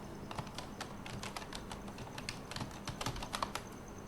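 Computer keyboard being typed on to enter a search, a quiet, close series of quick, irregular key clicks with no talking.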